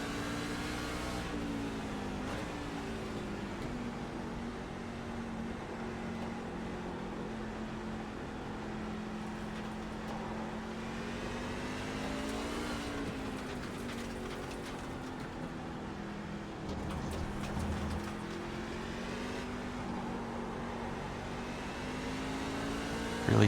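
NASCAR Craftsman Truck Series racing engine in the iRacing game at Lime Rock, a steady droning engine note that rises and falls with shifts and throttle through corners, continuous and moderately quiet.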